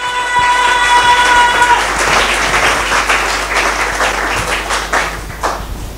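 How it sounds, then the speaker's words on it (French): A church congregation bursts into loud, sustained applause, a dense wash of many hands clapping close by, with a brief tonal note at the start fading as the clapping continues. "Acclamons pour la parole."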